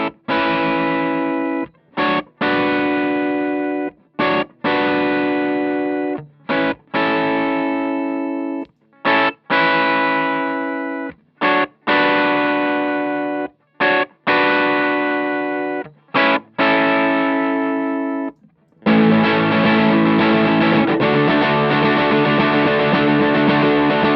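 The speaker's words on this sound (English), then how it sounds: "I'll show you what the distortion sounds like going straight into the amp" Electric guitar with distortion played straight into the amp: a run of chopped, heavily overdriven chords separated by short gaps, ending in a longer, denser sustained strum.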